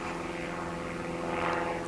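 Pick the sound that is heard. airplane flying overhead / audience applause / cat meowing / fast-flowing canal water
airplane flying overhead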